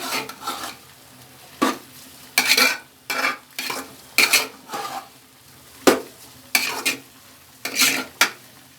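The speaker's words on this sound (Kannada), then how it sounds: "ಇದರಲ್ಲಿ ಫಸ್ಟ್ ಫ್ರೈ ಮಾಡ್ಕೊಳ್ಳೋಣ ಆಮೇಲೆ ಮಳ್ಳ ನೀರು ಹಾಕೊಳ್ಳೋಣ ಈಗ ಈ ಒಗ್ಗರಣೆಲೆ ಚೆನ್ನಾಗಿ ಮಿಕ್ಸ್ ಮಾಡ್ಕೊಳ್ಳೋಣ" Millet being fried and stirred through a tempering in a pan, with repeated scraping strokes of a spoon in a broken rhythm over a quiet background sizzle, close and fairly loud.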